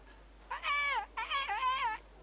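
A person in the game Kingdom Come: Deliverance imitates birdsong with two warbling, wavering vocal phrases that sound close and distinctly cat-like. They play against a quiet background.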